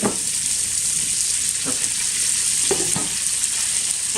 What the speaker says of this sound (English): inside of this skillet, we are going to put in a full leek